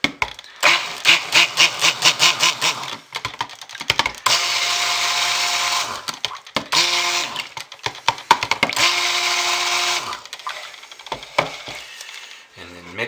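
A blender churns soap batter to mix in titanium dioxide, running in loud, steady bursts with pulsing start-and-stop stretches and brief pauses between runs.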